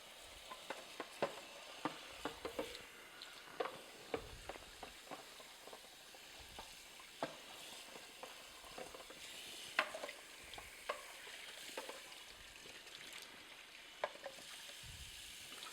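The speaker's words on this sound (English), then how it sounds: "I'll just run some water through." Water running and splashing over the plastic parts of a Sana Horeca commercial juicer during rinsing, a steady close wash broken by irregular clatters and drips, with no talk.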